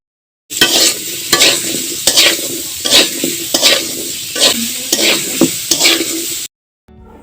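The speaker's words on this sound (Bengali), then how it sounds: "এখন আমি তেল দিয়ে আলুগুলো ভালোভাবে কিছুক্ষণ নেড়ে নেব" Potatoes being stirred in hot oil over a medium flame, a loud close sizzle broken by regular scraping strokes of a spatula across the pan, then stopping abruptly near the end.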